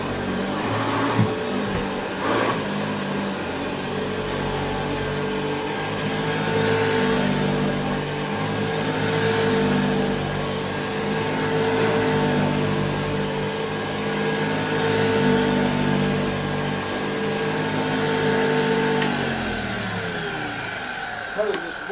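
A Hoover Commercial U7008 upright vacuum cleaner runs on thick, heavy carpet, giving a steady loud motor whine and airflow roar that holds for the full stretch with slight pitch shifts as it is pushed.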